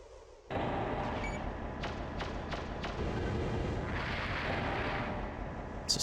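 Mech gunfire in the Armored Core video game, a dense continuous burst of rumbling shots with a few sharper cracks, loud and steady for several seconds before tapering off.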